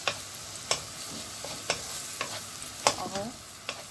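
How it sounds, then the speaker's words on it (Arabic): Chopped onion and fatty meat sauté in a spoonful of oil in a pan, with a soft steady sizzle broken by several sharp scraping stirs of a utensil, close and fairly quiet. "يا دوبك هديها تشويحة كده، البصلة تدبل بس"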